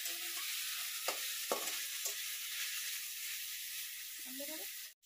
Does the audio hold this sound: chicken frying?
yes